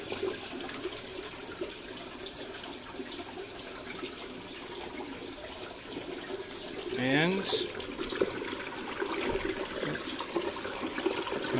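In a 240-gallon aquarium under test, water drains with a soft steady rush, then gurgles and splashes more loudly for a moment before settling back, while someone talks briefly over it.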